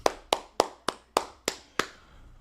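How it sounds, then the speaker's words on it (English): Seven sharp hand claps in a steady, slightly slowing rhythm, close and loud, each with a short decay, then quiet. "Let's clap it up."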